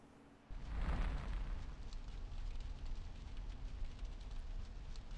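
A fire bursts alight in GTA San Andreas with a sudden low whoomp, then settles into a loud, steady roaring rumble of flames that keeps going to the end.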